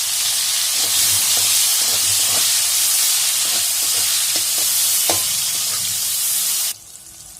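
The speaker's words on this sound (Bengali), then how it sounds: "পেঁয়াজ ভাজা হয়ে গেছে," Onion and tomato fry in a pan with a dense, close sizzle and repeated light clicks of a utensil stirring, until the sound cuts off abruptly near the end.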